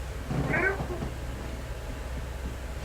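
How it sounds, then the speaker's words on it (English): A domestic cat gives a single short meow near the start, close and moderately loud, followed by quiet room tone. "This is my cat, Gemini."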